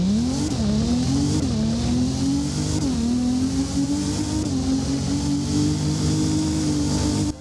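Nissan 350Z engine in the Roblox-style driving game Driving Empire, revving up steadily through several gear shifts, each shift marked by a brief pitch dip before the engine climbs again; loud, close and continuous with a smooth tone and no talking.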